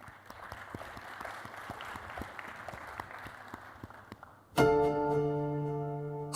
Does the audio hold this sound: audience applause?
yes